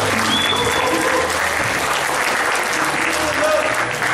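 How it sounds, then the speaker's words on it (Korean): Loud, continuous applause from a crowd at a high school alumni gathering in a Gangnam hotel banquet hall, many hands clapping steadily throughout with faint murmurs beneath. "큰 박수 부탁드립니다."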